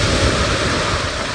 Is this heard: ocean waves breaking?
yes